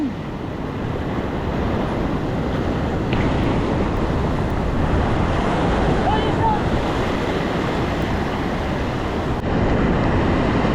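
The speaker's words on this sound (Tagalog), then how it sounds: "Palaki ng palaki ang alon ah." Ocean waves surge around a small boat at sea in a continuous rough roar mixed with buffeting wind on the microphone, steady and loud throughout, with faint voices now and then beneath it.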